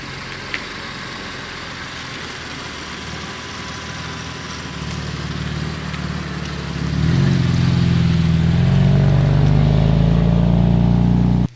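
A lightweight BMW M4 rumbles with a low exhaust burble, steady at first, then swelling louder and deeper for the last few seconds, close by and with no talk.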